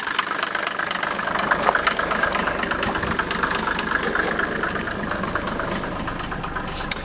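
A 1987 Mercedes 300SDL diesel idles steadily with no electrics connected, giving a continuous close knocking clatter that holds an even level throughout with no talk.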